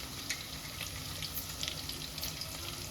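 Garlic, mustard seeds, cumin and asafoetida sizzle steadily in hot oil, a fairly faint, continuous crackle with brief pops, and no voices.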